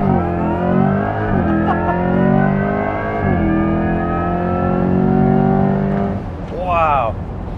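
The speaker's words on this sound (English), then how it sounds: "that whirring was like the motor" A 2024 Corvette E-Ray launching hard, its electric motor whirring in rising, stepped tones over heavy road and drivetrain noise, loud and close from inside the cabin, with an excited voice and a rising whine near the end.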